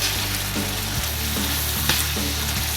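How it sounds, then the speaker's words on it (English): Beef sizzles steadily in a hot pan as red wine is stirred through and reduced for shepherd's pie, with a continuous frying hiss and occasional soft knocks of the spoon. "Now stir for about 3 minutes until the wine reduces."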